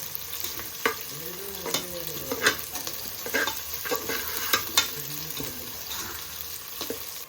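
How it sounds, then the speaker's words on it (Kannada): Chopped onions frying in a pan for veg pulao, sizzling steadily up close while a utensil stirs and scrapes them at irregular intervals, with no talk. "ಈರುಳ್ಳಿ ಹಾಕ್ಬಿಟ್ಟು ಅದು ಬ್ರೌನ್ ಆಗೋವರೆಗೂ ಬ್ರೌನ್ ಆಗೋವರೆಗೂ ಸ್ವಲ್ಪ ಬಿಡಬೇಕು"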